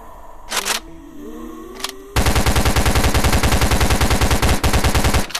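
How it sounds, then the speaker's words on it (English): A rapid-fire SMG in the VRChat game unleashes a long, loud, unbroken burst of fast shots lasting about three seconds, preceded by a few scattered clicks and shuffling noises. "This gun's just like the rapid fire SMG."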